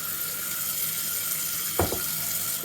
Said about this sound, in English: Fill that up with some warm water.